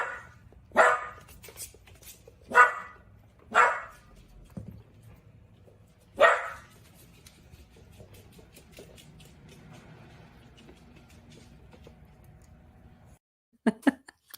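A dog gives a handful of loud, separate barks, spaced a second or two apart, against a quiet room. A brief sharp noise comes near the end.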